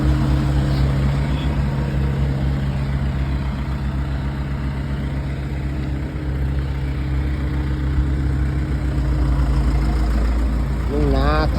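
An excavator engine idles steadily and loudly near a house under construction, a constant low rumble running the whole time with no breaks.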